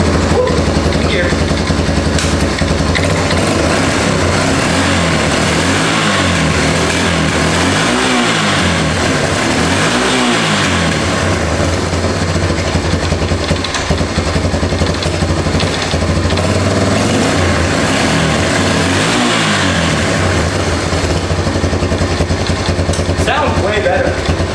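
A 1988 Honda 4x4 ATV engine runs steadily after repair, a loud close idle with a few rising revs, while people talk over it.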